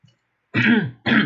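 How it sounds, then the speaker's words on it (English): Throat clearing, two short gruff rasping bursts close to the microphone, the second cut off at the end, with silence before the first. "every time you do it, you clear your throat"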